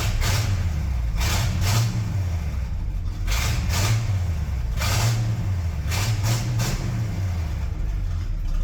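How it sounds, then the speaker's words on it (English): A 1972 Ford F750 truck engine fitted with an Edelbrock carburetor, revved repeatedly in a steady pattern of loud, close rises and falls, with no talking over it. "She's a snappy little engine now."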